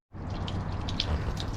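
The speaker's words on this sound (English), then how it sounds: "the water fountain picks up and down if you see it. and it's flowing away." A solar-powered water fountain starts up and splashes steadily, a close, continuous trickling and bubbling with small droplet splashes, no voices.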